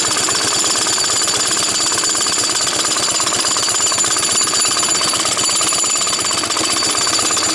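Small engine of an old Suffolk reel mower running continuously, a loud close rattling drone with a rapid steady beat throughout and no voices.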